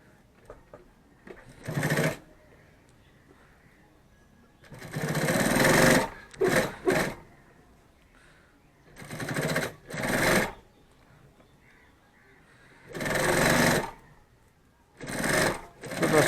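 Sewing machine stitching a handmade bag, running in several short loud bursts of a second or two each, separated by quiet pauses of handling.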